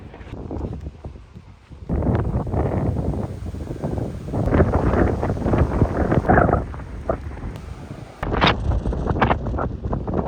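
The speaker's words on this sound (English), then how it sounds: "Windy." Strong gusty wind buffeting the microphone in loud, rough bursts, with brief lulls between gusts.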